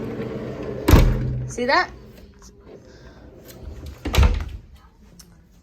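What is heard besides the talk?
sliding cabin doors opening and closing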